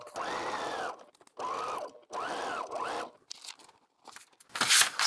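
A sewing machine stitches fabric while a diamond string quilt block is pieced, running in three steady, close mechanical bursts separated by short pauses, followed by lighter clicks and fabric handling.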